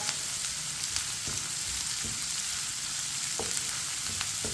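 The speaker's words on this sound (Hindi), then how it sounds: "प्याज को भी 2 मिनट के लिए पका लेंगे, 2 मिनट के लिए फ्राई कर लेंगे।" Onions frying over a medium flame in a pan for anda karela, an even, close sizzle punctuated by a few light spoon scrapes, with no speech.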